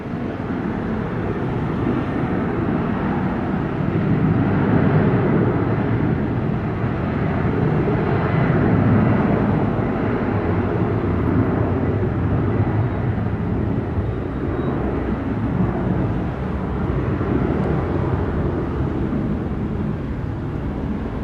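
Airplane taking off from runway 07 at Sangster International Airport in Montego Bay, Jamaica, a broad steady jet roar held at even loudness throughout, heard at a distance, with no voices.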